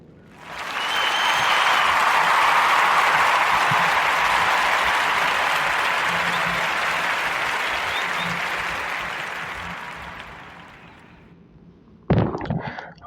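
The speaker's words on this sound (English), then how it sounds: "So give a warm round of applause for Mr. Tommy Davidson Jr." Audience applause welcoming a guest on a podcast swells quickly into a full, steady wash of clapping, holds, then tapers away before a brief sharp burst of noise at the end.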